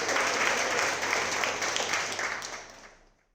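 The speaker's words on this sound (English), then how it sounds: "let's all give a round of applause to the startups that pitched today for the Sustainable City segment" An audience at a startup pitch event applauds the Sustainable City segment. The crowd clapping is dense and even, then gradually fades to silence.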